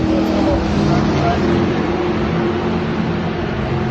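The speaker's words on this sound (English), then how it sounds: "we got the Trans Am cars on the track now" Trans Am race cars run on a circuit during a NASA Northeast time-trials event, producing a continuous roaring engine wash at middle distance, with people talking nearby over the noise.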